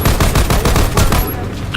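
Loud gunfire in a video game on the Anubis map during a special operation, a rapid burst of repeated shots right up close that fades out near the end.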